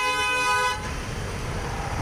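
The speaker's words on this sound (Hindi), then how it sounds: "गाड़ियाँ चलती हैं, हॉर्न फेज बजाते हैं।" Vehicle horns honking at a traffic signal in Jaipur, a loud, sustained toot at first that gives way to the general roar of passing road traffic.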